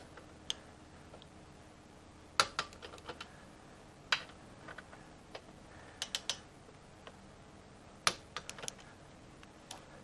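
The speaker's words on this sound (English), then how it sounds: "You just put the bolts in and then alternate tightening them down." A ratchet tightening the brake bolts on a Harley-Davidson Pan America motorcycle: faint, close clicks in short irregular bursts, with quiet gaps between them.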